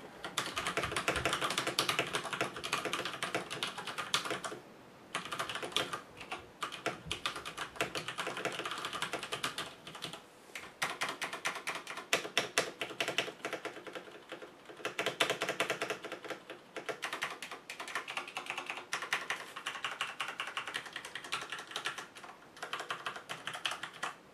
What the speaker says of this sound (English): let me show you what this sounds like to type a little bit on